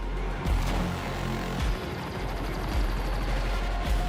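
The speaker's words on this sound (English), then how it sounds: "Keep shooting at eyeline sight." Rapid gunfire bursts from a video game trailer shown at Summer Game Fest 2025, heavy thuds and crackling shots repeating every second or so over a dense booming soundtrack, loud and close, with no one talking.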